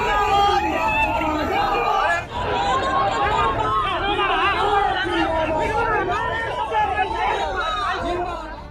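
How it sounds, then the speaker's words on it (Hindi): An uncontrollable crowd waiting at Tarapur for Lalu Yadav's helicopter to land roars in a dense, continuous babble of shouts and chatter, loud and close throughout. "6 साल बाद लालू की एक झलक देखने के लिए भीड़ बेकाबू थी।"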